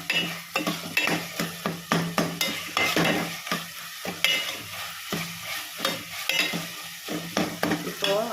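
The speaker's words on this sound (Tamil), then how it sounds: "இஞ்சி பூண்டு பேஸ்ட்டு ஒரு ஸ்பூன் போட்டுடுறேன் இது நல்லா வதங்கணும்" Steady sizzling and frying of ginger garlic paste sautéing in a hot pan, with repeated scraping and stirring strokes of a spoon against metal throughout.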